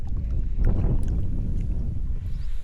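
Steady wind gusts buffet the microphone on a small boat crossing a lake during a search for coot eggs, a low rumbling rush throughout with faint water movement.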